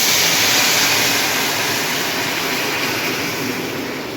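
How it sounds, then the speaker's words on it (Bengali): Water poured into a pot of dal, a steady broadband splashing gush that runs the full length at close range and fades slightly toward the end, with no voices. "জল দিয়ে দিচ্ছি।"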